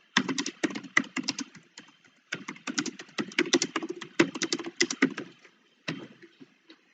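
Close computer keyboard typing in quick bursts of clicky keystrokes, with two short pauses, as a task is entered into a text box.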